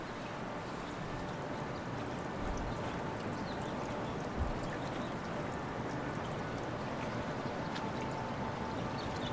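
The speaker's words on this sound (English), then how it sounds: "You can just hear the water." Water flows steadily near graves at Westwood Memorial Park, a continuous soft pouring and trickling wash that stays even throughout, moderately faint and alone without voices.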